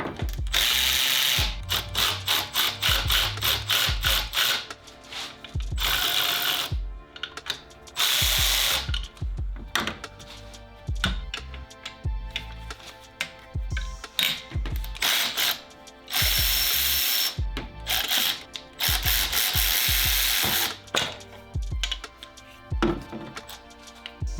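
Close, loud ratchet clicking in repeated bursts of rapid pawl ticks, with short pauses and some clanking, as bolts are worked off to remove the alternator from a 2019 Subaru WRX STI during intake manifold removal.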